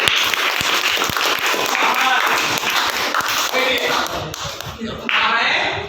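Schoolchildren in a classroom clapping loudly for a classmate who answered correctly, a burst of energetic, slightly ragged applause that fades, with voices talking near the end.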